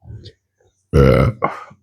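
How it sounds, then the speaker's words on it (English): A loud, throaty burp after eating a hot pepper rumbles out close up, followed by a shorter second gulping belch in an otherwise quiet space. "Excuse me, pepper burp."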